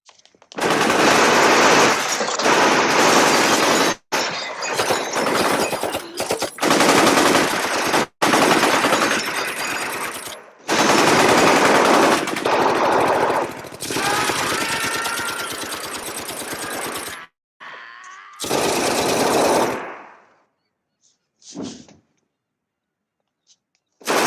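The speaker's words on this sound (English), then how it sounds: "his eldest son, Santino, was gunned down at the toll booth" Machine gun fire from the toll booth ambush scene in The Godfather, with dense, loud, sustained bursts of automatic gunfire broken by brief gaps, then tapering into scattered shots and quiet.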